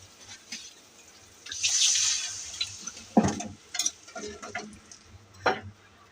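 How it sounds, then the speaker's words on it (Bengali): Water is poured into a pan of frying onion, spices, bay leaf and ginger, setting off a loud hissing sizzle that then fades into softer stirring and a few clinks of utensil against pan. "এখন ভাজা হয়েছে, একটু পানি দেব।"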